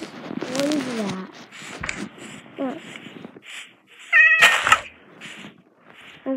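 A cat meows repeatedly in short, wavering calls in Minecraft, some drawn out and whiny, with a person talking at intervals between them.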